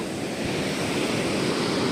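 Sea waves at Pallikkara beach in Bekal, Kasaragod, form a steady, loud wash of surf that fills the whole stretch, with wind buffeting the microphone and no voices.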